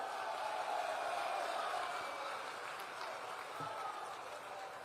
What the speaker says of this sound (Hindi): अरुण जी के लिए जोर से ताली बजाओ जरा।